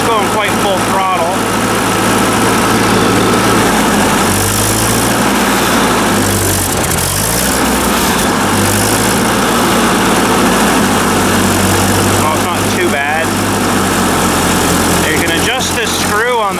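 A 1944 Ford 2N tractor engine runs steadily and loudly close by, its constant drone shifting slightly in pitch as it idles below full throttle.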